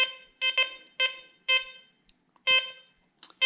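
An XP Deus 2 metal detector sounds a harsh, buzzy tone for a steel ring with ferrite on the pinpointer at the beach: about six loud, clear pulses in an uneven rhythm, with no talk.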